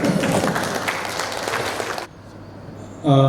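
An audience at a doctors' program in Hyderabad gives a welcoming round of applause, a dense burst of clapping that stops abruptly, followed by a short pause and a brief tonal sound.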